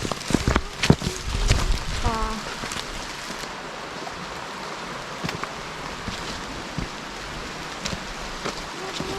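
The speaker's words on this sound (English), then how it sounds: "There's actually something really nice about walking in the rain, I think." Rain falls steadily on a forest hiking trail at Seoraksan near Baekdamsa temple in autumn, a constant hiss with scattered nearby drips and taps, plus a few thumps early on.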